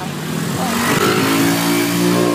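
Near a pier, a motorcycle speeds past close by, its engine revving loud and rising, then holding steady as it passes.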